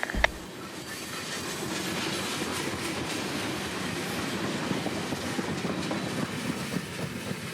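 An FEC freight train rolls past on the rails near Fort Pierce, Florida, with a continuous close rumble and rhythmic wheel clatter that holds steady throughout.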